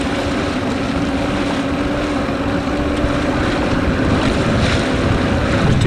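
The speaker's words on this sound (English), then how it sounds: "Gentlemen, that boat right there" A boat on Smith Mountain Lake with a steady motor drone, wind and water wash filling the whole stretch, heard continuously and fairly close.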